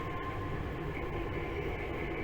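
A Tokyu 8500 series express train bound for Nagatsuta rumbles along inside the car, giving a steady, deep roar of wheels and motors with a faint high whine and no talk.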